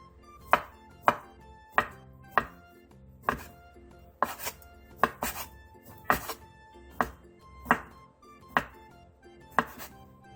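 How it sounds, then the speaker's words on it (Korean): Round sausages are sliced thin with a knife on a cutting board, a steady run of crisp, close chops falling roughly every half second, clean and alone with no voices. "동그란 소세지도 원하는 양만큼 얇게 썰어주세요"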